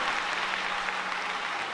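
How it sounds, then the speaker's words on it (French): A church congregation applauds during a Sunday service, a steady dense wash of clapping that fills the whole moment at moderate loudness, with no voices standing out. "On nous applaudit le Seigneur matin."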